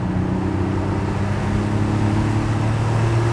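Porsche 964 Cabriolet cruises at a brisk but relaxed pace, a steady low engine hum blended with road and wind noise, continuous and even from inside the car.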